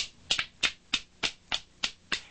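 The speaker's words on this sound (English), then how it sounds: "Wooden spoons sound really good" Wooden spoons are held back to back and struck against a knee, giving eight crisp, evenly spaced clacks in a quick steady rhythm. They sound close and fairly quiet.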